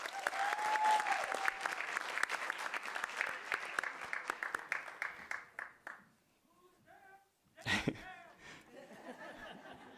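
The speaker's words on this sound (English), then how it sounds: "Let's give her one more big round of applause." Audience applause for an award recipient at a school board meeting, a strong round of clapping with some laughter that dies away around six seconds, followed by a short burst of noise and quieter room sounds.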